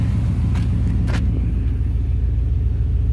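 A 1969 Chevrolet Camaro engine idles smoothly with a steady, deep rumble, close and loud, while a couple of brief clicks and knocks sound over it.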